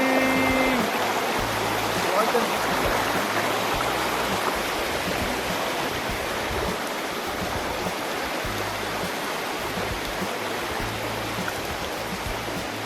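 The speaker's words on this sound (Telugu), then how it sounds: "పై నుంచి వాటర్ పడుతుంది," Water of the Penchalakona waterfalls pours down from above in a steady, loud broadband rush that stays constant throughout, with a low rumble underneath.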